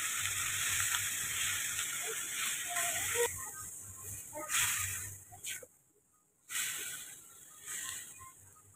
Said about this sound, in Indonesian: Masak dengan api besar sambil terus diaduk.